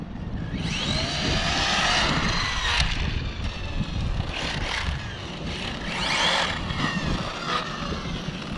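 A Hobao 8th-scale RC buggy revs hard through a burnout and acceleration, a loud, continuous high-pitched motor whine with rising and falling sweeps as it spins and slides, close by.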